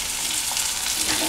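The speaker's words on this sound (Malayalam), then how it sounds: "അയല വറുത്തത് വെന്ത് പാകമായിട്ടുണ്ട്." Mackerel frying in a pan gives off a loud, constant sizzle that holds at an even level from start to finish, with nobody speaking.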